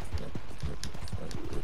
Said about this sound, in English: Oh no, it's a man riding a horse.